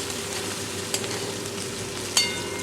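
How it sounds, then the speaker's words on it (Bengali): Ground onion paste frying in oil for a katla fish curry, a steady close sizzle with two sharp clinks of a spoon against the pan, no voices. "এবারে দিয়ে দেবো বেটে রাখা পেঁয়াজের পেস্টটা। ভালো করে আমি তেলের মধ্যে ভেজে নেব।"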